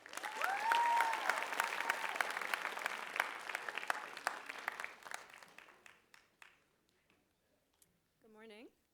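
An audience applauds to welcome a speaker onto the Writers' Week stage, steady dense clapping that thins out and fades, followed by a brief voice near the end.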